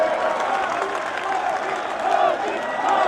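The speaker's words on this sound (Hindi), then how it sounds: "जोरदार तालियों के साथ इनका अभिनंदन करें।" Dense applause and crowd noise from a large outdoor political rally audience, steady and loud throughout with a swell near the end.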